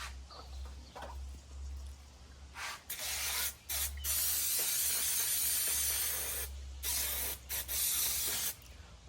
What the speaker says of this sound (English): I'm just going to take some spray adhesive and we'll stick them both on there